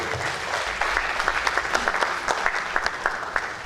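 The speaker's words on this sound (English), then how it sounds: "A round of applause for them." An audience at a university communication event breaks into a brief round of applause, a dense patter of clapping with a few sharper individual claps standing out.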